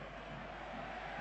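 Stadium crowd roaring in a steady, dense wash at an Argentine Primera División football match as Tigre's number 7 is cheered, the noise continuous and fairly distant with no clear individual voices.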